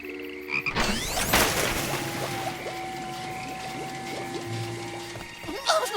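Frogs croak loudly and repeatedly at a pond, with voices talking over the chorus and a few splashy noises around it.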